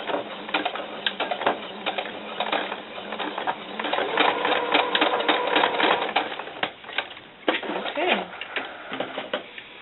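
A sewing machine runs in rapid bursts of stitching along a doll camisole seam, its dense mechanical chatter starting and stopping over roughly ten seconds, close and fairly loud.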